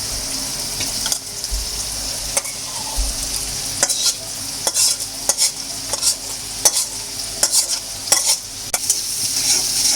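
Fried chicken being stirred into khichuri in a pot: repeated scraping spoon strokes at an uneven rhythm over a constant background sizzle, with no voices.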